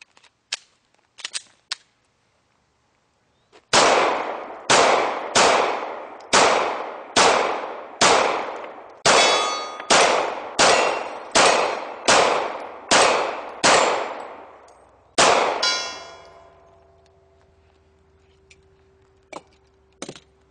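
A Glock 9mm pistol fires about a dozen sharp shots at a measured pace, each ringing off steel targets with a metallic clang, framed by a few lighter taps before and after the string.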